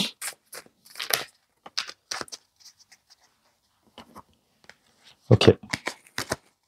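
Tarot cards shuffled by hand in bursts of crisp riffling and flicking, with quieter pauses between, ending in a loud close flurry of card slaps.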